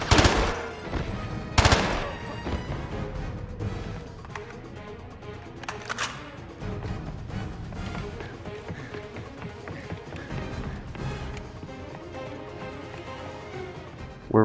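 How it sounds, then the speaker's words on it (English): Gunfire in the 007 Blood Stone video game: sharp shots burst out near the start and again around the middle, over a dense, busy game soundtrack with continuous action noise. "But at least we get to shoot some people with it."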